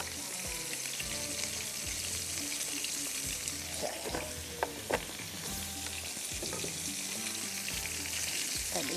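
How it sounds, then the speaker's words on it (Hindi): A burger bun toasting in cooking oil in a pan gives a steady, bright sizzle and crackle, with a few soft knocks and scrapes in the middle. "इसको हल्का सा मैं टोस्ट कर लेती हूँ"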